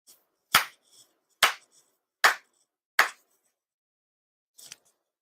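Four sharp, sincere hand claps at a Shinto monthly ceremony for Tenchi Kane no Kami ring out one by one with steady spacing in a quiet room, followed by a fainter rustle.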